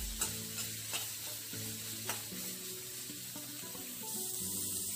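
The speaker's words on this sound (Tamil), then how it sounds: "இதை mix பண்ணிக்கோங்க." Capsicum and onions fry in a pan for cauliflower masala as a spoon stirs them, giving a faint sizzle with scattered scraping clicks. It is quiet and close, and no one talks.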